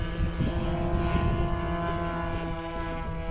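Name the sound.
Tiger 30 light aircraft propeller engine on the runway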